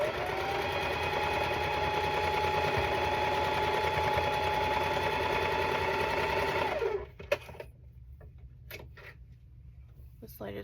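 Sewing machine stitching quilt block fabric, a steady close-up mechanical whir with a rapid needle rhythm for about seven seconds, then stopping to faint handling clicks and rustles.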